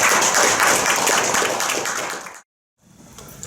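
An audience at a National Assembly policy debate gives a short burst of dense applause that fades over a couple of seconds, cuts to silence, then resumes faintly with scattered claps.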